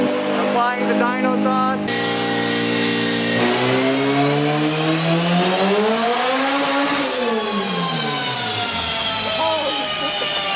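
A turbocharged B18C engine in a Honda Integra revs hard on a dyno, climbing steadily in pitch through a long full pull and then dropping off, loud and close with a sustained roar.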